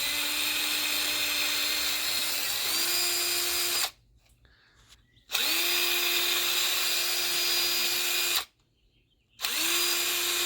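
A power drill whines steadily in three long runs while its bit grinds like a rotary tool on lamp parts, pitch rising as it spins up after each short pause.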